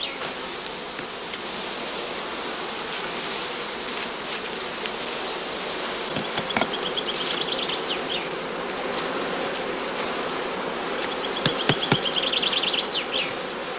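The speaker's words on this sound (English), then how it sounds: "Second swarm bees are also filled into skeps containing old comb without honey or brood." A swarm of honey bees in a skep, part of a second swarm cast during heathland beekeeping in northern Lower Saxony, buzzing as a steady dense drone with a few individual bees flying close past now and then.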